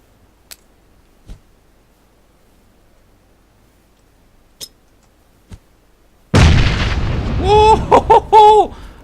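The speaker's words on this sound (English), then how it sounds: "might have been my first frag grenade kill" A frag grenade explodes in the PUBG video game, one sudden loud booming blast after a few faint distant clicks, followed by a rumbling tail with a voice sounding over it.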